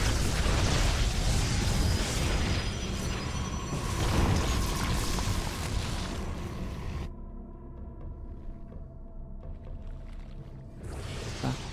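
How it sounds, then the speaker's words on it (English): Banelings bursting against cannons and batteries in StarCraft 2, a dense rush of loud splattering explosions and mechanical crunches that thins out as the fight settles, then swells again at the end. "The Banes crash in for some of the cannons and the batteries here."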